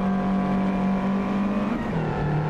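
A Mini Cooper race car engine at Bathurst, likely from a racing game, drones loud and steady, with a brief shift in pitch near the end.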